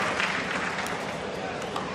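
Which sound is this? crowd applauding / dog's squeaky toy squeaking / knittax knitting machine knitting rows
crowd applauding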